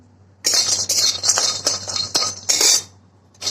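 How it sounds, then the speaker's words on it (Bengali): Lentil dumplings (dal bori) dry-fry in a pan without oil, heard as a busy run of metallic scraping and clinking from a utensil stirring against the pan, loud and close, pausing briefly before a final scrape. "ডালের বড়িটা ভেজে নিচ্ছি"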